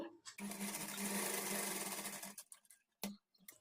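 A sewing machine runs steadily for about two seconds, stitching along a folded triangular fabric edge for a blouse latkan tassel. After it stops, a few brief bursts of stitching follow, close and fairly loud.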